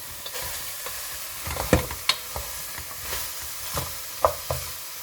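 Olive oil in a pot for fish pepper soup is stirred, giving a soft sizzling hiss under scattered spoon clinks and knocks against the pot, close and fairly quiet with no speech.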